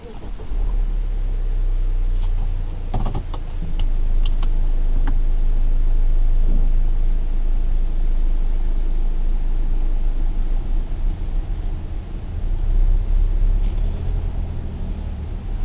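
Second-generation 2018 Mazda CX-5 SUV driving on the road, a steady low cabin rumble of engine and tire noise with a few brief clicks and knocks early on, continuous and moderately loud without talk.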